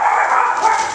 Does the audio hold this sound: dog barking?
yes